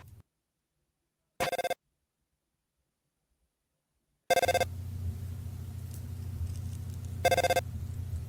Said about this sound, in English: they instead receive a phone call from Carol